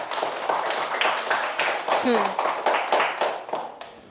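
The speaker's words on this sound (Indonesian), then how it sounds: "berikan aplaus untuk kelompok 6" Applause from a classroom of students for a presenting group, a steady patter of many hands clapping close by with voices chattering underneath throughout.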